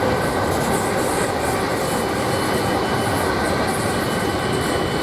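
A South Western Railway class 458 electric train running past at Queenstown Road on the South West Main Line, a loud continuous rumble and hiss of wheels on rails with faint squeals, close and steady throughout.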